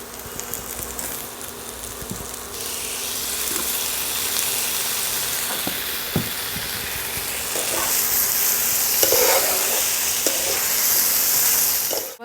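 Potato curry with tomato ketchup in a pan for a new-potato aloo dum, a constant sizzling hiss that grows louder and brighter, with a few scattered stirring clicks, close up.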